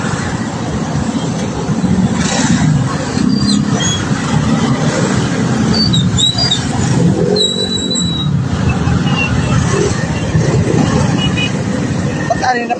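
Dense road traffic heard from a motorcycle rider on a congested early-morning street: a steady close roar of engines and tyres with passing vehicles and occasional higher whines, voices faintly mixed in throughout.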